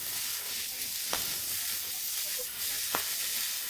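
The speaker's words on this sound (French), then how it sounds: "Ajoutez une tomate hachée, une gousse d'ail hachée, du persil et des oignons nouveaux. Mélangez à nouveau." Chopped tomato, garlic, parsley and spring onions stirred in a hot pan, giving a steady loud sizzle and hiss with a couple of sharp utensil knocks against the pan.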